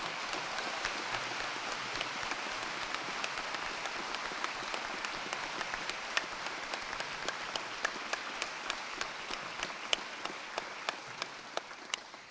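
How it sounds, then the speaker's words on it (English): Audience applauding at a university graduation ceremony for an award given in absentia, steady dense clapping filling the hall for the whole stretch, even and sustained with no voices on top. "I'd appreciate if we give her a round of applause"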